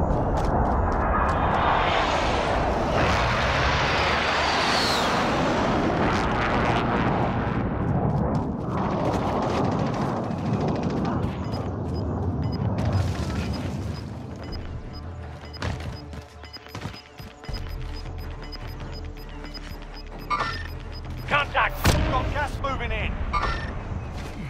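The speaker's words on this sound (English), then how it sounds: "Be advised, friendly precision airstrike inbound." A friendly precision airstrike in Call of Duty Warzone brings heavy booming blasts and crashing debris, loud and sustained at first, then thinning into scattered impacts and clatter, with voices talking over it.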